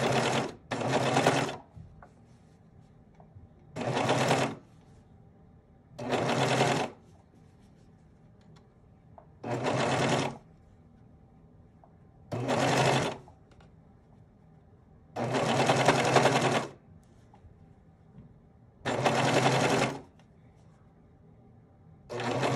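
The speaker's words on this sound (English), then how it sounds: "I decided to serge this guy on so it finishes the edge with a serge and also stitches on the trim at the same time." A serger runs in a quiet room while stitching trim onto a dress side seam, finishing the edge at the same time. Eight or so short whirring bursts come close up, each a second or two long, separated by pauses.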